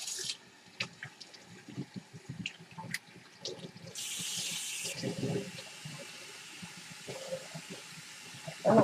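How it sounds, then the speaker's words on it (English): Water runs from a tap in bursts while hands rinse off flour dough beneath it, splashing and gurgling close by, with a louder gush of flowing water in the middle. "Quick rinse my hands behind you."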